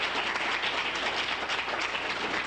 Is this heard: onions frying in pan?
no